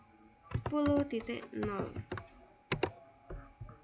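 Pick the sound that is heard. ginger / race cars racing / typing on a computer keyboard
typing on a computer keyboard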